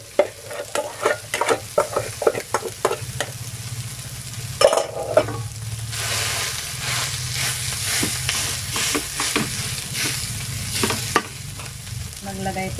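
Leftover rice being stir-fried in a pan: repeated scraping stirs at first, then a steady sizzle of frying with occasional spatula scrapes, close and fairly loud, no talking.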